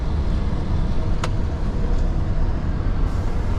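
A Scania R620 V8 truck cruises along a highway in New Zealand, giving a loud, continuous low road and engine roar with steady tyre noise and a couple of faint clicks.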